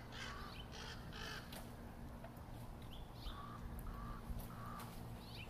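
Crows caw repeatedly in bursts against steady outdoor background noise, with no saw clearly distinguishable beneath them.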